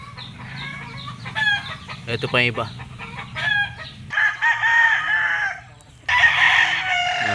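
Kelso cross gamefowl roosters at a backyard breeder's yard in Lipa crow loudly several times and cluck between crows, and someone speaks briefly near the start.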